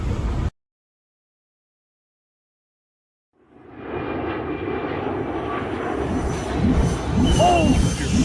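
A seaplane's propeller engine drones steadily after a brief cut to silence, a loud, close, continuous aircraft roar with some background noise mixed in.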